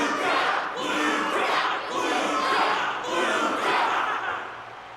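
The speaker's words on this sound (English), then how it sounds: "the audience's passion stays strong. Their constant applause is a salute to this resilient Belabogian fighter." A stadium audience at a martial arts tournament in the video game Honkai Star Rail roars and applauds in continuous, swelling waves, loud and dense throughout with no clear gaps.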